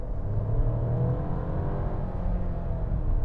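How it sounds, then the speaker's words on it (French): A Volkswagen Taigo SUV under full throttle gives a steady, loud engine drone and whir from inside the cabin, rising slightly as it accelerates, with no talking. "si je mets le pied dedans"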